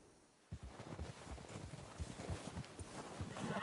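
Horse hooves clip-clopping in a western game, a steady walking rhythm starting abruptly and continuing close by under light wind noise, with no talking over it.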